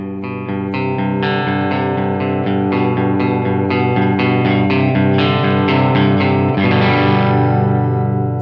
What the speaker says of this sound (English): And then the clean sound, just open the volume pedal slightly.